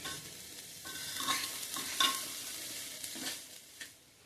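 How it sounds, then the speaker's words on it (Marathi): A spoon stirs red chili powder and goda masala in a pan, giving soft scraping strokes with a light sizzle beneath, close and fairly quiet, several uneven strokes over a few seconds. "सगळं व्यवस्थित हलवून घ्यायचंय"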